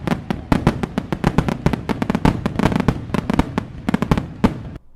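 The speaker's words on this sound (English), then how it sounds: "Had to turn off the sound of the fireworks." Fireworks sound effect playing over a livestream: a rapid, loud barrage of crackling pops and sharp bangs in an irregular but dense rhythm that cuts off abruptly near the end, with no talking.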